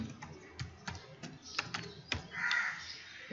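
Keys on a computer keyboard tapped in short uneven bursts while a new password is entered on a Windows 10 PC, the clicks close but fairly quiet against a faint background hum.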